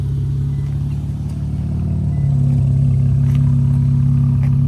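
An Infiniti Q50S 3.0t engine idles with a steady, low exhaust growl that swells slightly louder partway through, close and continuous.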